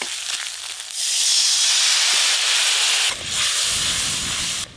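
Salt, turmeric and chili powder sizzle in a hot pan as a splash of water goes in, giving a loud, hissing burst of steam that dips briefly, then surges again, with no voices.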